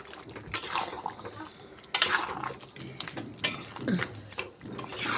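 Chicken curry with potatoes is stirred in a pot, giving scraping, clattering strokes of a utensil against the metal in a few separate bursts over a low background, close by and without speech.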